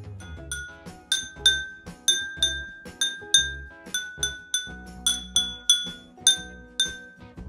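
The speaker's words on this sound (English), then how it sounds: "Let's check with a spoon how they sound." A spoon taps a row of water-filled glasses in a homemade water xylophone, striking about eighteen bright ringing notes in a steady, melodic rhythm, each clear chime decaying quickly before the next, close and alone.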